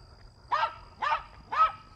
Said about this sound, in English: Stupid dog.